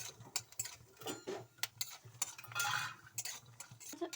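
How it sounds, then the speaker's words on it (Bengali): Peanuts being fried in a kadai and stirred, giving near, busy scraping and rattling strokes in irregular bursts, over a soft steady sizzle and with no voices. "ভালো করে বাদামগুলো ভেজে নেব।"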